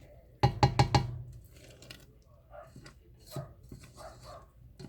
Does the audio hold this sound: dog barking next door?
yes